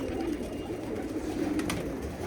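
Pigeons coo softly in a loft holding over a hundred birds, a low murmuring chorus running steadily throughout with faint rustling.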